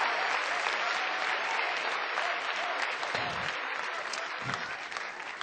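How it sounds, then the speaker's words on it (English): A large crowd of students at George Mason University claps loudly and steadily throughout, dense applause at a political rally that tapers only slightly toward the end. "Give them a huge round of applause, everybody."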